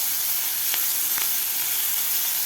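Onion sautéing in a pan for sprouted masoor usal gives a steady, close sizzle with bright hiss throughout and a couple of faint stirring scrapes.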